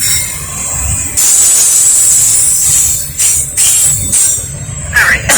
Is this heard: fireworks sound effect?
no